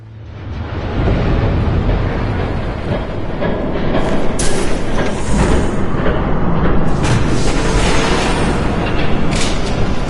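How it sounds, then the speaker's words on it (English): A train passes in the video game Batman: The Telltale Series, a loud, steady rumbling roar that swells within the first second and holds for about ten seconds, with clanking and screeching layered on top. "There's a train coming."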